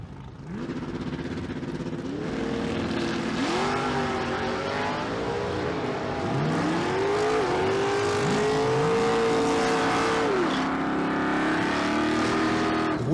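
Drag race cars, including a 1973 Mach 1 Mustang and a 1979 Malibu, launch and roar at a Las Vegas street car event, engines revving and shifting in rising sweeps, heard from a moderate distance with crowd ambience.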